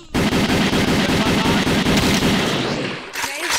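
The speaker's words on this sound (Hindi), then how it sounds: "चला दी मैंने गोलियां।" Rapid bursts of gunfire from a TMKOC mobile video game, a loud continuous volley of shots for about three seconds that then cuts off abruptly.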